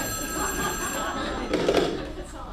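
A telephone rings with a sustained electronic bell tone, then cuts off as a soft clunk and muffled voice follow.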